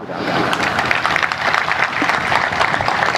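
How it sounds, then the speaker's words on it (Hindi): Loud, dense applause fills a satsang gathering led by Swami Ranjit Saheb, continuous rapid clapping from a large audience at steady volume. "एक बार जोरदार तालियों की गूंज"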